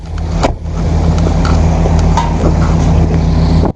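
A stolen Corvette's engine runs steadily during a police stop, with a constant low drone and a harmonic hum, overlaid by wind buffeting and a sharp knock near the start.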